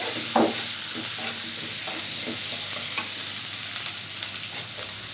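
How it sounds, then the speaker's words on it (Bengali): Onions and green chillies frying in a pan, a close steady sizzle with scattered scraping stirs of a spatula against the metal, moderately quiet and without any voices. "এখানে পেঁয়াজ ভাজা হতে হতেই আমি একটু আদা রসুন দিয়ে দিব।"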